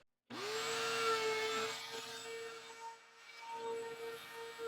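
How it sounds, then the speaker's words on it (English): Router table running with a round-over bit cutting the edges of a scrap wood piece, a steady loud whine that starts abruptly and holds with slight dips as the cut progresses. "I'm going to take this over to the router table. I'm going to put just a little round over on both sides"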